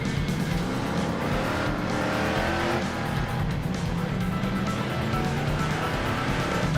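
A Hemi car with a 4-speed, 8 3/4 rear end and 355 gears accelerating on a highway, engine roaring loud and continuous with a rough, rattly edge as it bogs, plus road and wind noise throughout.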